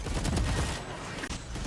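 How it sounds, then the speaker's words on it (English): Gunfire in the tactical shooter Valorant, a short burst of rapid shots with a dense, loud crackle that eases off after the first second, with no talk over it. "They'll just see the gunfire again."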